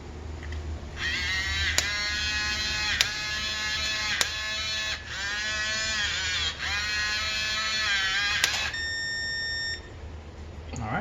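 A Kwikset Halo Touch smart lock runs its self-test after fresh batteries go in, giving a long warbling electronic tone sequence marked by a few sharp clicks, ending in a short series of steady beeps, with no talking.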